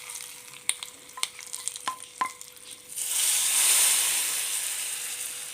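Hot tempering with mustard seeds and Kashmiri chilli powder crackles in the pan with a few sharp pops, then is poured into an okra curry, bursting into a loud, sustained hiss that slowly fades; no talking.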